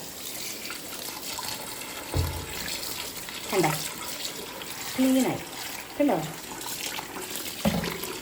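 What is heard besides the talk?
running tap water while washing anchovies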